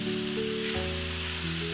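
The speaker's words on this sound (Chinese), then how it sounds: "我们要提前把肉煎制一下，这样可以把肉表面的水分煎干" Pork sears in peanut oil in a wok over an open flame, giving a steady, close sizzle that runs unbroken under a low tonal hum, with no voices.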